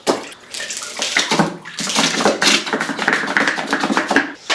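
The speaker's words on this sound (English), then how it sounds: "we're going to see if we can flush all of these at once down the toilet" A toilet flushes a load of pickles, giving a loud, close rushing and gurgling surge of water that churns for several seconds, with no talking.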